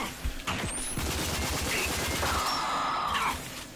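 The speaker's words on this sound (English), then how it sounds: "I can't even see what's shooting me" Rapid gunfire from the video game Rage crackles in dense, overlapping bursts, with loud volleys and a few brief tonal whines, sustained without a break and no talking.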